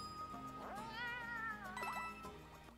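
A cat meows in the Nintendo game Bowser's Fury, one drawn-out, rising and falling call with a shorter meow after it, clear over a steady bed of game music.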